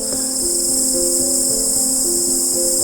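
A dense, steady chorus of insects and late cicadas chirping and trilling in autumn grass on a Jirisan mountain trail, loud and close, with several overlapping pitched buzzes and no voices.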